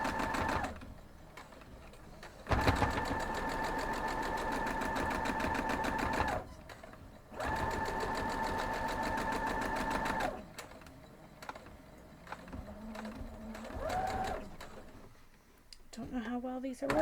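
Domestic sewing machine stitching white and red quilting fabric at a quarter-inch seam: two long, steady mechanical runs, close and loud, then quieter handling noises and a brief voice.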